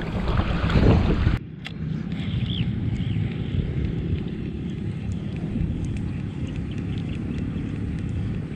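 Steady wind rushing across an open boat during a fishing outing with light lures, a loud buffeting gust at first and then a continuous broadband blow for the rest.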